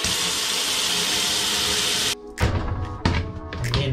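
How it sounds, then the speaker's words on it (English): Warm water running from a tap into a bucket, a loud steady gushing stream for two seconds that cuts off, followed by hollow thunks and knocks of the bucket being handled nearby. "we're just going to half fill this bucket here with warm water"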